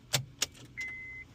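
Honda Civic Hybrid in a garage as the ignition key is turned on, with two quick sharp clicks and a short faint tone from the rear of the car, quiet and close.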